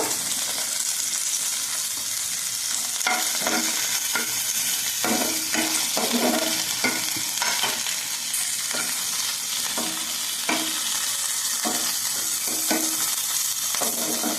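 Green chillies and cumin seeds fry in a pan with a steady, crackling sizzle, repeatedly punctuated by scraping stirs, close up and continuous over about fourteen seconds without speech.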